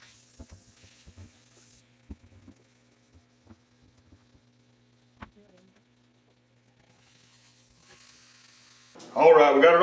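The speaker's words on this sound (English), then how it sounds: "gonna do a quick sear on this ham" A wild hog ham is seared in olive oil in a cast iron skillet. A quiet hum and scattered light clicks come first, then a loud, close sizzle erupts at the very end.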